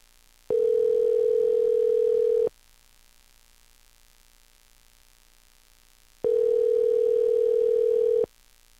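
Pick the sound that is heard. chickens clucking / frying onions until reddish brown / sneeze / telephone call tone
telephone call tone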